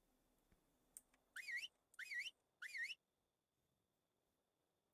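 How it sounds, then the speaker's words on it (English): A character in Ark: Survival Evolved whistles three short rising-and-falling notes in an even rhythm, clear and close against a quiet background. "I don't know if whistling has anything to do with it."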